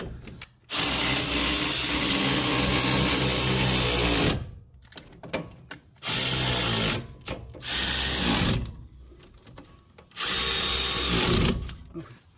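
Power tool snugging up the rear hub bolts on a Toyota RAV4: several loud bursts of whirring, rattling impact driving, each a few seconds long, separated by brief quiet gaps and faint clatter.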